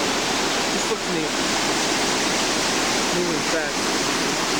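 Fast-moving water rushes loudly and steadily near a covered bridge, a dense, continuous roar that fills the whole clip.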